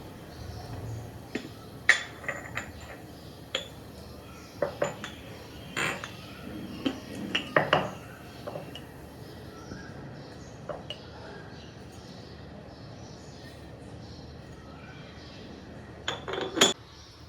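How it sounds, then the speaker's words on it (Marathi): Small metallic clinks from a milk pan on a gas stove while tea is made in it, scattered sharp taps with quiet gaps between them and a brief burst near the end, close but soft. "दुधाच्याच पातेल्यामध्ये मी चहा बनवत आहे"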